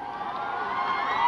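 A concert crowd at a city day celebration in Reutov, 2002, cheers and applauds in a steady, dense wash of noise that swells slightly toward the end, with no single voice standing out.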